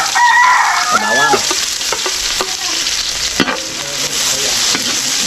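Garlic sautéing in a pan with a steady sizzle and scraping stirring strokes, while a rooster crows in the background near the start.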